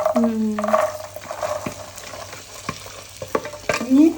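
Chicken with spices being stir-fried dry in a pan: sizzling bursts with scraping and clinking of a spoon against the pan, close and intermittent, with brief squeaky scrapes.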